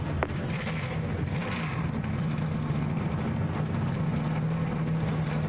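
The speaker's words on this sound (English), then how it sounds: "Austin, go ahead and fire it up." Many race truck engines in the 2011 Coca-Cola 250 fire up together into a loud, sustained, rumbling roar with revving swells, close and steady throughout, with no talk.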